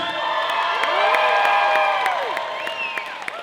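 A live audience at a magician's stage show cheers, whoops and whistles, with scattered clapping mixed into the loud crowd noise for a few seconds.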